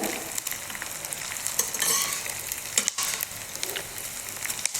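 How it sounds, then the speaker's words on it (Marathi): Edible gum pieces frying in hot ghee for whole-wheat jaggery laddus give off a steady, close crackling sizzle with bursts of popping throughout. "आपण आता यामध्ये हा डिंक तळून घ्यायचा आहे"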